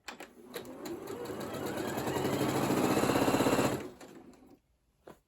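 A Janome Memory Craft 8200 QCP Special Edition sewing machine stitches up close, its steady motor whir starting at medium speed and rising to fast, running for about four seconds before stopping abruptly.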